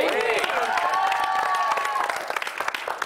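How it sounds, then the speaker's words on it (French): A studio audience on a French-language dating game show applauds a contestant, moderate clapping and cheering beneath excited voices, fading out after a couple of seconds. "Je pense que ça vaut un applaudissement"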